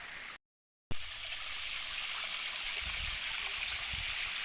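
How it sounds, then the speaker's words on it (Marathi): Small forest waterfall running during the monsoon, a steady broadband rush of falling water that is close and continuous, with a brief gap of silence near the start. "जंगलामध्ये जबरदस्त असा वॉटरफॉल भेटलेला आहे एक छोटासाच"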